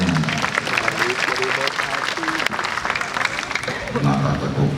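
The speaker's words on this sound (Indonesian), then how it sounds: "Kenapa tepuk tangan aja?" An audience at a tabligh akbar religious gathering in Daegu applauds in a steady wash of clapping, with voices and chatter running underneath throughout.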